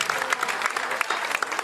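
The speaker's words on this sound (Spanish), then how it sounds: "Un aplauso para el día del caballo" Crowd at a Corrientes livestock and horse auction claps in a short, dense burst of overlapping applause with a few sharper individual claps standing out.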